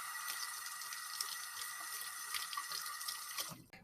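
Cold tap water running steadily into a sink for rinsing, a constant close hiss and splash that cuts off abruptly just before the end.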